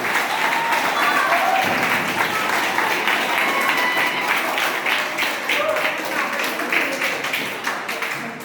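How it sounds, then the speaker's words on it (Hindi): An audience at a World Hindi Day event claps together in a long, dense round of applause that stays strong for several seconds and slowly thins, with some voices mixed in. "आप लोग सबको ताली बजाएंगे"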